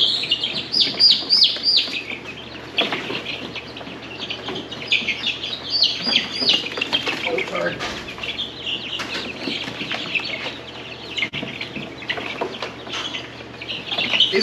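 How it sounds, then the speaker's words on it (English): Golden comet chicks chirp constantly in a busy chorus of high, thin peeps during a move to a new home, with occasional fluttering and shuffling. "These guys are pretty docile, these golden comets."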